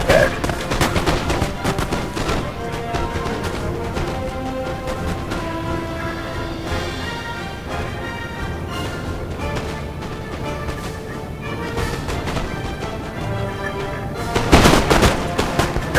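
Massed musket volleys rattle continuously in a Napoleon: Total War battle, dense crackling gunfire layered over game music and battle noise, swelling into a louder cluster of shots near the end.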